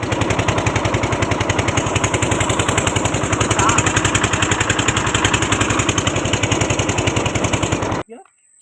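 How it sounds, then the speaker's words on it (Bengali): A fishing boat's engine on a river chugs loudly and steadily with a fast, even pulse for about eight seconds, then cuts off abruptly, leaving near silence. "তো দেখছো বোট স্টার্ট দেওয়ার পর বোট বন্ধ করা লাগলো"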